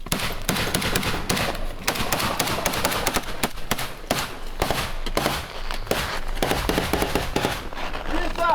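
Explosive charge detonating during military breaching drills by a training battalion, heard as a dense run of sharp, loud bangs and thuds over several seconds, with shouting voices mixed in.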